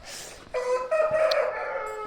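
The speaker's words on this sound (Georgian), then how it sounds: "დედაჩემს ნახეთ ქათქათა თეთრი ქათმები ყავს" White chickens give a short run of nasal, drawn-out calls close by, with a soft breathy sound just before the first call.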